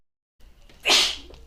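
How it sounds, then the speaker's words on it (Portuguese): A single sharp sneeze bursts out after a brief quiet intake of breath, close and loud, with nothing else around it. "Quando você quiser espirrar, espirra, depois eu corto."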